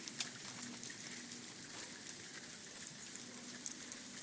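Hail falling outside heard as a dense, steady crackling patter across the whole stretch, fairly faint and distant, with no voices.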